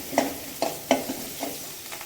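Onions dropped into hot oil with fennel seeds, tempering for a beef-and-lima-bean curry, a soft sizzle broken by several light stirring scrapes and clacks at uneven intervals.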